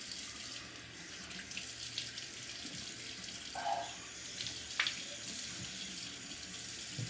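A straight razor rinsed under a running tap, a steady close faucet stream with a couple of brief splashy changes as the blade passes through the water.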